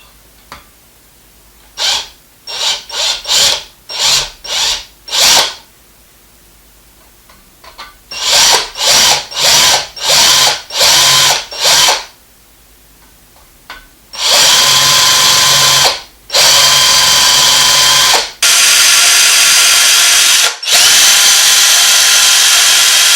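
A power drill with a 4.5mm bit whirs in short repeated bursts, then in longer, louder sustained runs, drilling out rivets on a Dinky Toys Blaw Knox bulldozer; close and harsh, with brief pauses between.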